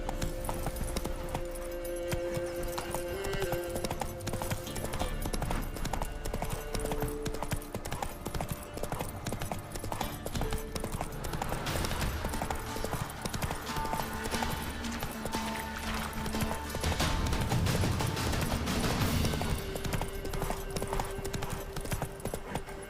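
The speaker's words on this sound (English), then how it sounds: "Come on, Roach." Hooves of the horse Roach clip-clop in a steady galloping rhythm through the Witcher 3 video game world over ambient game sound, continuous and moderately close.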